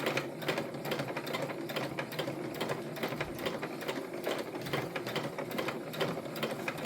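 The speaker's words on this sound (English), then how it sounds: "make sure you put your foot back down before you start your machine again." Sewing machine stitching along the bottom of a fabric tote bag, a steady fast mechanical whir and needle clatter running continuously at close range with no talking.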